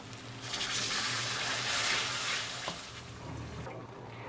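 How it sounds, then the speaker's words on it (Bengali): Water is swished around a container used for spinach, ginger, garlic and chili paste and poured into a cooking pan, a steady splashing gush that holds for a few seconds before easing off. "এটাকে ধুয়েই দিয়ে দিলাম জলটাকে।"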